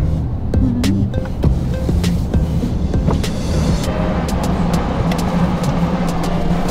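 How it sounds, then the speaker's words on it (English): A golden Porsche drives past on a city street in Russia, a loud, close engine and tyre rush over steady traffic noise with scattered clicks, heard without talk. "A golden Porsche."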